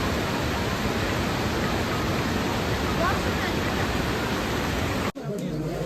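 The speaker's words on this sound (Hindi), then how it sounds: "देखो कितना प्यारा लग रहा है वाटरफॉल" A waterfall on the road from Munsyari to Haldwani gives off a steady, dense roar of rushing water that fills the scene, then cuts off abruptly near the end.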